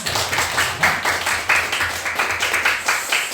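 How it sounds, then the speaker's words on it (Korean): A church congregation claps together in steady, dense applause during a Sunday service, fairly close and continuous for a few seconds. "우리 감사의 박수 한번 할까요?"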